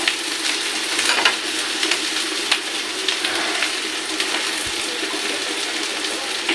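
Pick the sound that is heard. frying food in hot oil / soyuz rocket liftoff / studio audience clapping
frying food in hot oil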